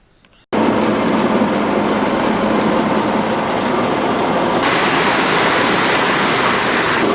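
Grain seed pouring from a bag into a planter at a wheat farm, a loud continuous rushing hiss that starts abruptly after a brief quiet moment and keeps flowing steadily to the end.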